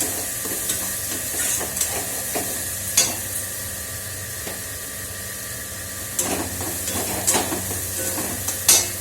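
Spice paste fries in hot oil for a potato dum curry, a steady close hiss with occasional sharp spatters and utensil scrapes scattered through, and no one talking.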